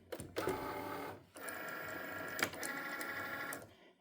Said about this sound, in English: And we're going to let Cricut do its thing.